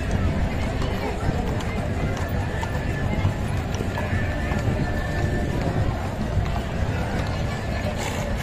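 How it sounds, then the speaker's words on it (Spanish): Horses clip-clop along at the Jerez de la Frontera horse fair, a steady stream of hoofbeats under a lively crowd murmur, with people talking nearby throughout. "Todavía vienen algunos más caballos."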